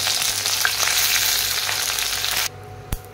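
Hibiscus leaves and flowers sizzle loudly in hot oil with a dense, steady frying hiss, then the sizzle drops away abruptly near the end and a single soft clunk follows.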